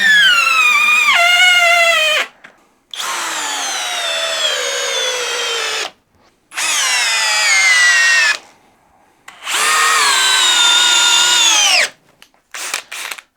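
A power drill driving a screw with a 7/8-inch Bosch Daredevil bit into 8-inch Timberlok, in four loud whining bursts of about two to three seconds each, its pitch sagging under load, separated by short pauses and ending in brief stuttering pulses.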